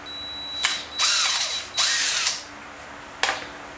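A power drill drives screws into wood in three short bursts, its motor whirring up and down, with a sharp click closing the clip.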